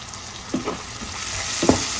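Shrimp frying in a pan with potato, garlic, onion and plenty of green chili, a steady close sizzle broken by a few soft stirring scrapes.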